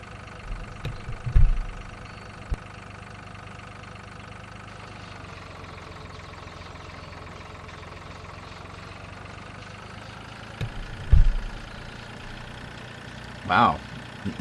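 Tractor engine idling steadily in Farming Simulator 2013, a low, even drone with a few brief louder thumps and bumps mixed in.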